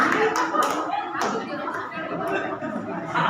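An audience claps during a quiz show in a hall, a burst of scattered hand claps with chatter and voices talking over and around it.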